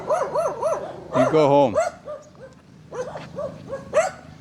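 Dogs out in rural Philippines bark and yip at a man holding a stick, several sharp, close barks with whimpering tones in bursts, interrupted by a voice speaking over them.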